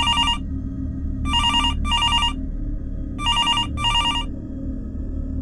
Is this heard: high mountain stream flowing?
no